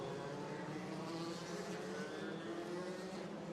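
Formula 3 race cars at the Macau Grand Prix drive through the pit lane, a steady dense engine drone with a constant mid-distance roar and no clear single pass-by.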